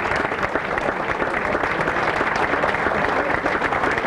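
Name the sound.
audience applause for the officials standing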